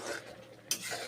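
A spoon stirs mushroom curry in a pan, a brief soft scrape with one sharper clink of metal, close by and quiet over faint low sizzling, no voices.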